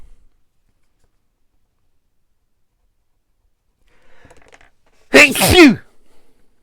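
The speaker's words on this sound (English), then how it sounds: "Apologies, I had to sneeze." A single loud, sudden sneeze bursts out after long near-silence, preceded by a faint intake of breath.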